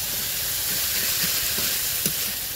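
Meat spices heated and fried in a pan, a steady bright sizzling hiss that holds close and loud throughout, with a few faint pops underneath.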